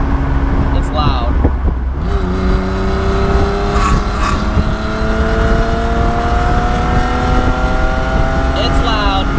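A loud BMW 325i convertible engine drones steadily while driving, with rising tonal pitch as it pulls, up close and continuous throughout.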